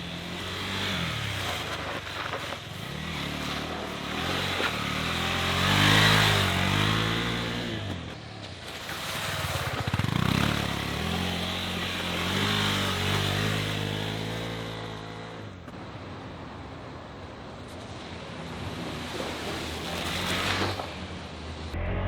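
Engine of a KTM 390 Adventure motorcycle ridden off-road, revving up and down in repeated surges with gear changes, heard up close under heavy wind rush.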